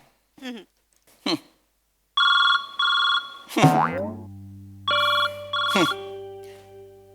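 A telephone rings in two loud electronic bursts, mixed with short comic boing sound effects and brief voices.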